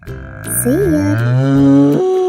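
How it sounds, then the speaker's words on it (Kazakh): A cow lets out a single long, drawn-out moo that rises and holds steady, close and loud, with nothing else around it. "Сиыр мөңірейді."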